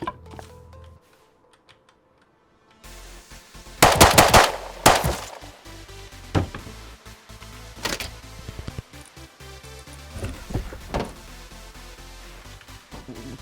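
An auto turret in the survival game Rust opens fire after a quiet stretch, letting out rapid bursts of sharp gunfire followed by scattered shots and clattering in-game sounds.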